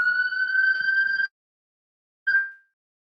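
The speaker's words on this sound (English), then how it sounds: "All right, so the ambulance is gone." An ambulance siren passing close by outdoors; a loud steady electronic wail with a strong tonal harmony holds for over a second, cuts out abruptly, then returns in a short burst.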